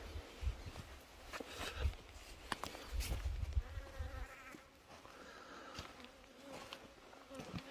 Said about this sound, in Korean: 이 벌은 동양종, 동양종 꿀벌입니다.